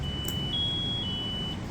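An SCBA PASS alarm sounds as a thin, steady high-pitched electronic tone that holds through the whole moment, faint and alone with no voices.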